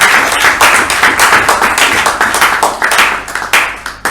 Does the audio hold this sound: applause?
yes